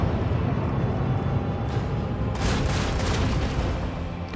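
Heavy starboard ship cannons fire in the space combat of Rogue Trader, a dense roaring barrage that swells into a louder, booming volley partway through.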